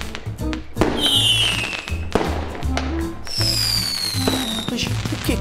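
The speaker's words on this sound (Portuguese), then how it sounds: "Isto é artifício de fogo." New Year's fireworks pop and crackle in rapid bursts, with sharp bangs and high whistling streaks, loud and close.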